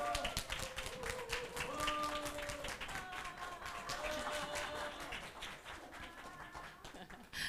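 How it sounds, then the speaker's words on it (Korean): Applause from a youth-group congregation at a church service welcoming a teacher to the front, a steady wash of clapping at moderate level with some tonal sounds over it, lasting throughout. "박수로 환영해 주세요."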